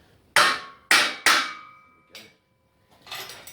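Three sharp metallic hammer blows ring out in quick succession, each with a bright ringing decay, followed by a couple of softer taps, while rebuilding a 351 V8 engine.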